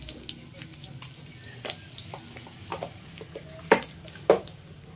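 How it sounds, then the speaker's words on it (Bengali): Dry red chillies and black cumin seeds sizzle in hot oil for a spicy crab curry, a soft, steady frying hiss with a few sharp pops and spits standing out. "আমি একটু শুকনো লঙ্কা ফোড়ন দেব আর কালো জিরা।"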